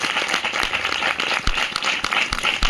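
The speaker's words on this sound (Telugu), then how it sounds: "బిగ్గరగా చప్పట్లు కొడదాం అందరం" A church congregation claps loudly together in a busy, continuous patter of many hands, with slightly stronger beats surfacing through the steady wash of applause.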